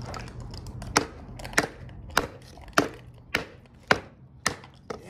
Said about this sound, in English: Brought this hard old stick out. Let's chop it up and see.